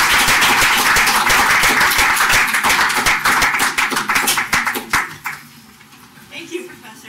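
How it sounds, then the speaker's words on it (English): Audience at a law school session claps hands in a burst of dense applause that thins into scattered claps and fades near the end, with talk overlapping. "Would you kindly clap your hands?"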